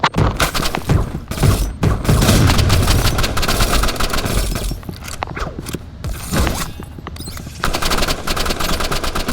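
Rapid automatic weapon fire from the Freeze Ray in the video game Rivals, a loud dense burst of repeated shots running nearly the whole time with only brief gaps, no voices.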